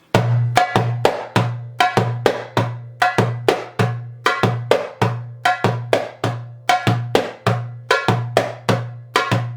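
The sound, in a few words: darbuka Ayub rhythm with slap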